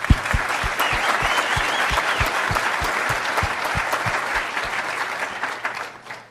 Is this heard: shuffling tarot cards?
no